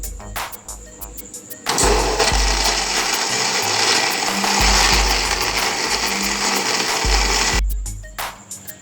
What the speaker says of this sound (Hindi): मैंगो जूस को ब्लेंड कर लिया है।